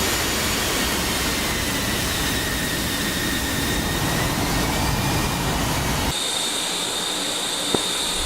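A jet aircraft taxis in a flight simulator game, its engine giving a loud, steady roar that abruptly thins and changes tone about two-thirds through, with one faint click near the end.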